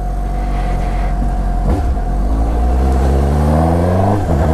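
A brand-new 2017 Suzuki GSX-S750 four-cylinder motorcycle engine revs loudly and close, its pitch climbing smoothly in a strong rising sweep before easing off.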